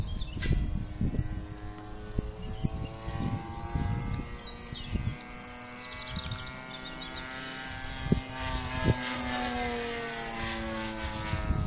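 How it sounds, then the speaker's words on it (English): A WOT4 XL model airplane engine runs steadily at half throttle at an outdoor flying field, a loud, continuous buzzing drone with a slight rise in pitch partway through and a few soft knocks and thumps nearby. "That's about half throttle at the moment."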